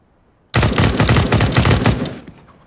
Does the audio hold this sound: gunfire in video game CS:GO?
yes